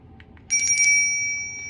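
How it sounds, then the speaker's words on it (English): A bright electronic bell chime rings out clearly after a brief quiet moment, its tone sustaining and slowly fading. "now I'm going to get a bell sound"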